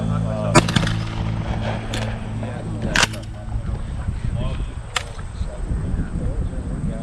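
A shotgun fires at clay targets on a trap shooting range, with a few sharp cracks spaced seconds apart, one especially loud, over outdoor background noise and occasional voices.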